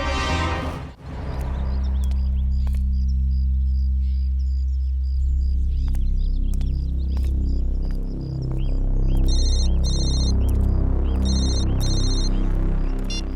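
An electronic phone ringtone in a Telugu crime drama scene, heard late as short repeated beeping bursts layered over loud, sustained dramatic background music.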